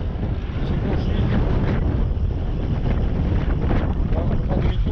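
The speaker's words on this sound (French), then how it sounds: "On va faire demi-tour, il y a trop de vent." Strong wind buffets a camera on a single-speed bike ride along a greenway, a loud, continuous rumbling roar with gusty surges, close to the microphone.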